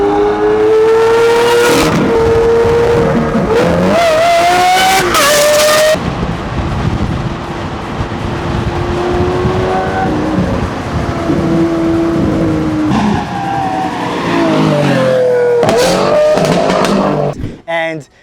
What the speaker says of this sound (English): when you hear the exhaust note of this car